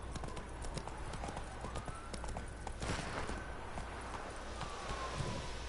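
Horse hooves clip-clop in the video game The Witcher 3 as the horse moves at a brisk, even pace. The quick rhythmic hoofbeats sit over a steady bed of game ambience.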